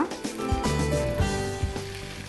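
Onion and cumin sizzle steadily in a spoonful of hot oil in a pan over a gas flame, with soft stirring scrapes and clinks rising above the continuous frying hiss.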